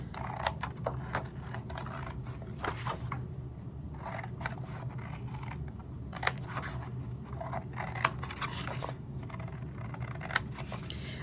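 Scissors cutting through two stacked pieces of cardstock, close-up crisp snips coming in short uneven clusters with brief pauses between them, no talking.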